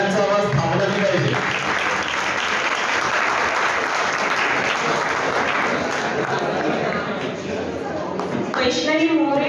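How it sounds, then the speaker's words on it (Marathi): Sustained audience applause fills a school science-club prize ceremony honouring students, dense steady clapping throughout with brief voices near the end. "टाळ्यांचा आवाज थांबला नाही पाहिजे."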